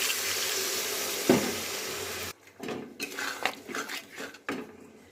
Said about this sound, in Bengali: এবারে আমি এখানে জল অ্যাড করব।